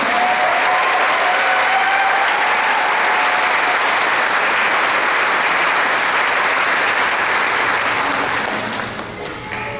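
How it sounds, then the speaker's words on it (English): Sustained, loud audience applause at a nursing graduation ceremony for the snow team, dense clapping filling nearly ten seconds before tapering slightly at the end. "can I get a big round of applause for our snow team?"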